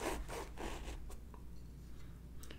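Knife cutting through food for a tarragon chicken salad, a series of rough rasping strokes up close, quiet and followed by a few faint clicks, no speech.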